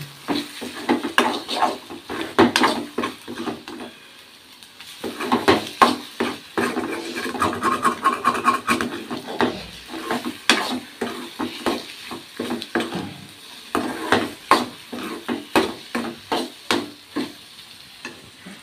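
Eggs frying in a pan at home, with steady sizzle under repeated scraping and tapping of a spatula against the pan in close, uneven bursts, no talking.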